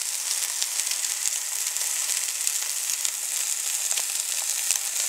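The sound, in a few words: chorizo mince frying in a pan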